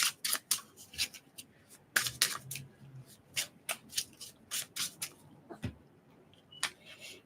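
Tarot cards are shuffled and handled in quick, crisp bursts of riffling and flicking snaps, close and fairly quiet, with no talking.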